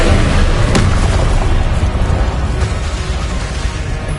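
A Confringo explosive spell blast in Hogwarts Legacy, a loud sharp boom followed by a sustained roaring rumble that slowly fades over several seconds, with no talking.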